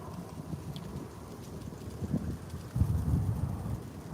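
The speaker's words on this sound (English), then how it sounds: "Is the wind's kicking up." Low, rumbling wind buffets the microphone in uneven gusts, swelling stronger toward the end with no voices present.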